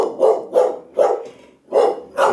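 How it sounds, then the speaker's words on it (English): A dog barks in five sharp, loud bursts at a steady rhythm, close by, reacting to a mail delivery at the front porch with no other sound between barks. "My mail was just delivered, and my dog had to let the mailman know that he needed to get off the porch."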